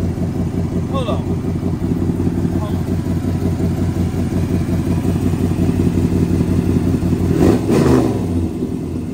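The loud stroker LS engine in a 1989 Cadillac Brougham runs close by with a steady heavy rumble and a brief rise in revs near the end, while people talk over it.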